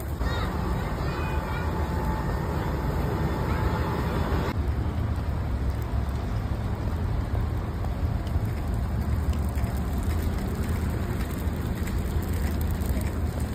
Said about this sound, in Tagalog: Medyo rainy weather at kakaiba po talaga yung ulan.